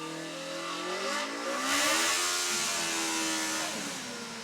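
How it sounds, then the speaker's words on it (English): A student-built race car's engine revs up steadily, its harmonic pitch climbing and then holding high at close range, loud and continuous with no talking. "press a button and hear the engine rev up"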